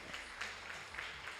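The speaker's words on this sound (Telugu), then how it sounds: "గట్టిగా మీ అందరూ చప్పట్లు కొట్టాలి." An audience applauds at a national-level classical and folk dance competition, a faint, steady wash of many hands clapping in a large hall, with no voices standing out.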